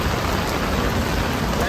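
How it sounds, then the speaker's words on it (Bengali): Heavy rain pours steadily at a train station, a dense, continuous hiss of downpour filling the whole stretch without a break. "দেখেছেন এদিকেও কি মুষলধারে শুরু হয়েছে বৃষ্টি"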